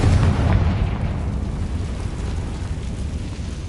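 A Confringo fire spell explodes in Hogwarts Legacy with a loud low boom at the start, then a rumbling, crackling tail that holds steady and fades slowly.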